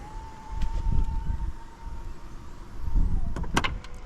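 The power tailgate of a 2023 Audi A6 Avant TDI quattro closes with a steady electric motor whine, then ends in a cluster of firm clunks as it latches.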